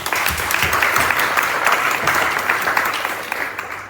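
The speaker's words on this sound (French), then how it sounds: "Je vais passer le micro à Laurie, qu'on va applaudir." A crowd claps steadily for a few seconds, dense and fairly loud, tapering slightly toward the end.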